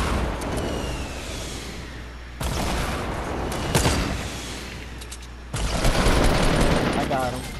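Heavy Fortnite Battle Royale gunfire comes in dense bursts with sharp booming shots, including a sniper shot. Players talk over the shooting.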